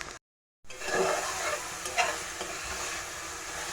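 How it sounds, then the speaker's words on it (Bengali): Eggplant sautés with spices in a pan on reduced heat for begun tangra; after a moment of silence comes a close, steady sizzle with occasional stirring scrapes. "এই দেখো মশলার সাথে বেগুনগুলোকে ভালোভাবে কষিয়ে নিয়েছি"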